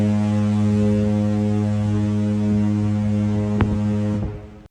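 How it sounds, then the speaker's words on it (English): A foghorn sound effect plays on a cruise ship's party deck, a loud sustained droning blast holding steady for about four seconds before cutting off abruptly, with no talking over it. "You get the foghorn."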